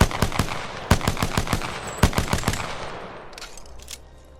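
P2020 pistol in Apex Legends emptying its magazine, a quick burst of sharp separate shots in two rapid strings, loud and close, followed by a faint mechanical reload clatter.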